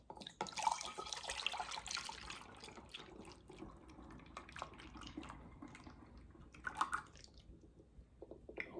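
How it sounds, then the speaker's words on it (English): Homemade coffee liqueur poured from a container into a jar, a close liquid trickle and splash with a few small drips and clinks toward the end, no talking. "now I'm going to pour this into my jar"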